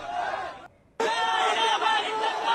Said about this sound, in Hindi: नारेबाजी हो रही है और पुलिस शांत कराने की कोशिश कर रही है।